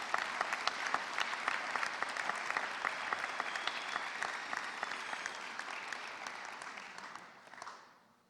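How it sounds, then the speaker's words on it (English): A crowd of families and friends at a Northgate High School graduation gives a long, dense round of applause, steady throughout before tapering off at the end. "Can we please give our families and parents and friends a big round of applause?"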